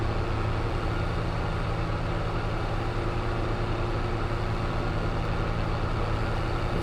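A tractor engine idles in Farming Simulator 22, a steady low diesel hum with an even rumbling tone that holds unchanged throughout.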